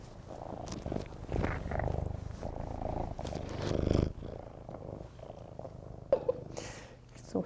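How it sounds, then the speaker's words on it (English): Cinnamon, a tiger-striped male cat at an animal shelter, purrs in low rhythmic rumbles close to the microphone, with brief voices and handling noises around it. "He's purring away like mad."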